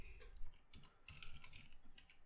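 Fast, uneven typing on a computer keyboard, a run of light close clicks at a quiet level with no talk.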